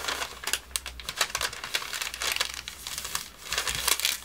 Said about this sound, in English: So we fold it, I'm going to fold it in half.